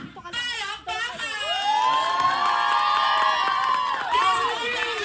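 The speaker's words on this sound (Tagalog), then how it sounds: "ang gusto niya pong marinig ay isang malakas na sigawan" Children at a seventh birthday party shout and cheer loudly for Jollibee, a dense crowd of high voices rising into a sustained, swelling cheer after a brief opening burst.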